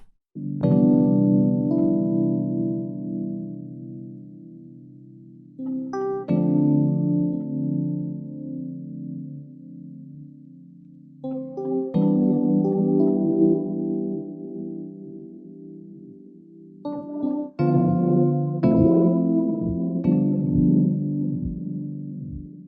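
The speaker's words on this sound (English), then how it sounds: "And lastly, the phaser." Sustained synth chords played through a phaser plugin change every few seconds, colored by a swirling phaser sweep; the final notes come in quicker, choppier bursts. No one speaks.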